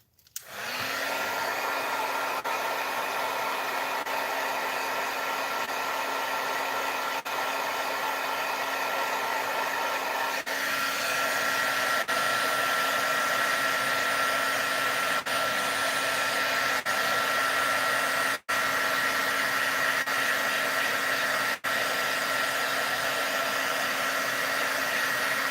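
Handheld hair dryer blowing steadily and loudly at close range over a handmade enchanted rose paper card, a constant whirring rush lasting throughout with only a brief dip.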